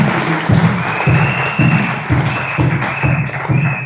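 A congregation in church claps in a strong rhythmic beat, loud and close, with a steady sustained tone running underneath the clapping.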